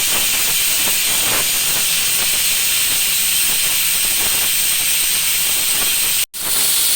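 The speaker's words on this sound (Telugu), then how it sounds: "6 విజిల్స్ అయిపోయాయండి." A pressure cooker cooking dal on a gas stove lets out a loud, steady, continuous steam whistle that hisses on for several seconds before cutting off abruptly.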